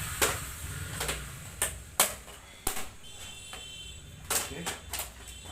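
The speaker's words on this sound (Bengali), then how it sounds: "এখন আস্তে আস্তে আমি এটা খোলা চেষ্টা করবো" Plastic casing of a Dell LED monitor is pried open, giving a series of sharp snapping clicks at irregular intervals over faint background noise.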